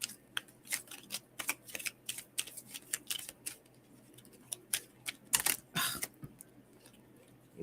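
A deck of cards being shuffled at a table, a quick series of crisp riffling and flicking bursts with brief pauses, fairly close and moderately loud against a quiet room.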